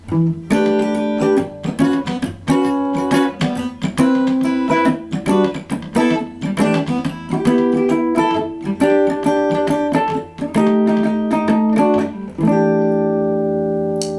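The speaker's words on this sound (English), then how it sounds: "I go to a funkier good sort of guitar version of the chord." Funky electric guitar chords play in choppy, rhythmic strums, bright and up close with short stabs and ringing sustained chords.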